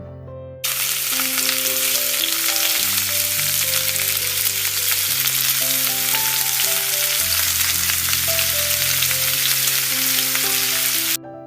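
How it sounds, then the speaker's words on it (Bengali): Onions frying in oil in a pot while beef is being cooked, a steady, close sizzle and crackle running the whole way after a quiet start, with a faint tonal background hum underneath. "পেঁয়াজটাকে ভেজে একটু তেলের মধ্যে সোনালি আকার করে নিব"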